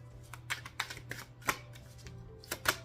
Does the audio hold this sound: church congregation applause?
no